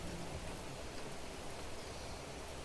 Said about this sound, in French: Donc là, on entend bien la pluie tomber.